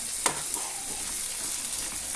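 Canned tuna being mashed and stirred in a hot pan gives a steady sizzle close by, with a couple of light scraping knocks near the start.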